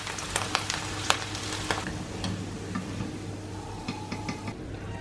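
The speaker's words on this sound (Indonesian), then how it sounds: "Lalu sekarang kita goreng tempe." Tempeh frying in hot oil gives a steady sizzle with scattered pops and crackles, close and fairly loud, with no talking.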